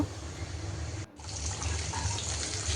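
Water poured into a pan of hilsa fish curry with fried fish pieces, a steady close gush and splash of liquid filling the pot, briefly interrupted once before the pouring resumes.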